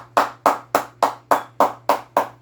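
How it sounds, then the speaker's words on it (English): Eight evenly spaced hand claps, roughly three per second, sound close and crisp over a steady low hum, with no voices. "Give a round of applause for yourself."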